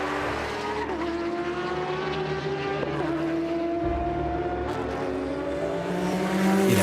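Race cars at the 24 Hours of Le Mans in the closing night laps, engines whining and droning with shifting pitch as cars pass under a dense, continuous racetrack roar.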